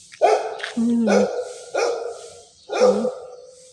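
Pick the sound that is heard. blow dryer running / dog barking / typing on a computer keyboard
dog barking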